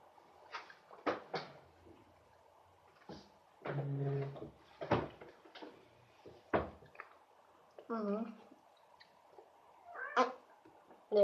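A pet cat meows repeatedly indoors in short, separate calls with a few drawn-out yowls, interspersed with quiet thumps and handling sounds, heard nearby in a quiet room.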